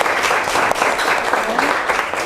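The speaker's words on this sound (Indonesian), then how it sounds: "Tepuk tangan untuk kelompok 1." A classroom of students applauds a presenting group after a science demonstration, a dense, steady clapping that fills the whole stretch with faint voices underneath.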